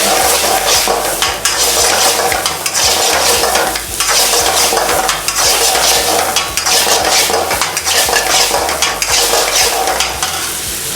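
Mutton lollipops sautéing in a pan, a loud continuous sizzle with repeated scraping and stirring strokes against the metal, steady throughout with no voices.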